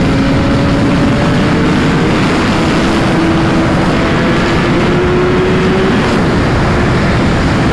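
A Suzuki GSX-R1000 1000cc motorcycle on the move: loud constant wind rush fills the sound with no break, while a low engine drone holds steady and rises slowly in pitch underneath.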